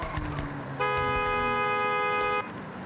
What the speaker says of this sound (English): There you go, honked.